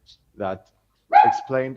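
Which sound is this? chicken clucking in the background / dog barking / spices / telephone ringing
dog barking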